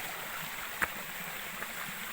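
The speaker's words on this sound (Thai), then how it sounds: "เป็นลำธารน้ำตกเล็กใสเล็กๆนะครับ" A small clear mountain waterfall stream flows over mossy rocks, a soft continuous rushing wash of water with one brief splash, no talk.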